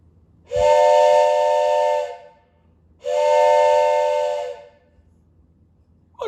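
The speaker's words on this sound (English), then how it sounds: "It says train whistle" A toy train whistle gives two loud, sustained, steam-style blasts of about two seconds each, separated by a short pause, close to the microphone in an otherwise quiet room.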